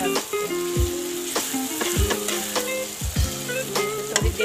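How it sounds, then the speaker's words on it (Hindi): Caterpillars fry in a pan with turmeric, red chilli, coriander powder and other spices, giving a steady loud sizzle broken by periodic scraping knocks of a spatula against the pan, with no one talking. "थोड़ी देर और भून लूँगी उसको"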